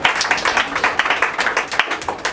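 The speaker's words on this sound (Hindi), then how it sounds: "ताली बजाओ लवली को" An audience in a church gathering claps for a person named Lovely, giving a brisk, steady round of many overlapping claps, close and fairly loud, with no talking over it.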